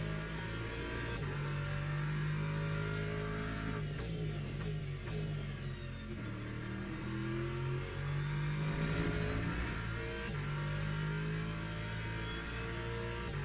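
Race car engine in the Le Mans Ultimate sim racing game, droning steadily at moderate revs with shifting harmonic pitch across a lap spent warming the tyres, continuous and up close with no talking.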